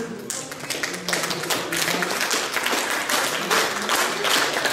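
An audience at a Ukrainian greeting ceremony for the credit union Vyhoda applauds steadily, a dense, loud wash of many hands clapping for nearly five seconds.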